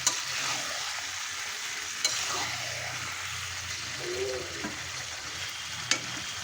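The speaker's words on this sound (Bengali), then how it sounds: "সেদ্ধ করা চর্বিটা আমি এখন মাংসের মধ্যে দিয়ে দেব, দিয়ে ভালো করে কষিয়ে নেব চর্বি দিয়ে" Mutton and boiled fat fry and get stirred in a kadai, giving a steady close sizzle with a few sharp clinks of the spoon against the pan.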